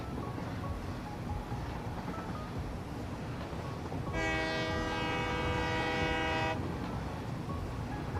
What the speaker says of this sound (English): By the way, the trains that are running on this,